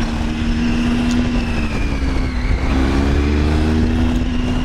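A police car passes on the road, heard from a moving premium motorcycle as a loud, steady engine and road roar, with the pitch shifting mid-pass and no talk.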